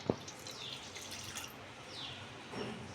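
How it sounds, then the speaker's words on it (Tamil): About 100 ml of milk pours into a heavy or nonstick pan for khoa, a soft, close, continuous liquid trickle with a brief splash at the start and no talk. "100 ml பால் ஊற்றிக்கலாம்."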